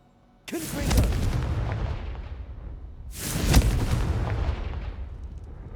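Two loud explosive blasts from the Confringo fire spell in the video game Hogwarts Legacy, each a sharp boom with a long rumbling decay, the second roughly three seconds after the first, with no talking.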